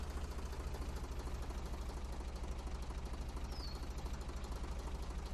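A tractor engine in the lumberjack game Professional Lumberjack 2015 idles with a steady low, even rumble throughout, constant in level and alone without talk.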